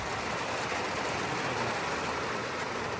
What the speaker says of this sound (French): Il a commencé à pleuvoir, mais grave.